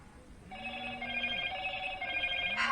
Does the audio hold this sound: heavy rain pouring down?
no